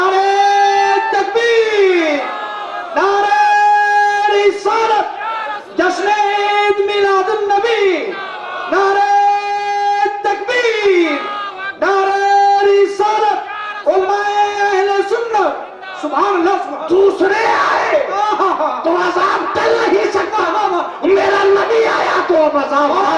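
Crowd shouts a slogan response to a Naara-e-Takbeer call at a religious gathering, a loud chorus of many voices rising together in bursts, alternating with a preacher's amplified voice.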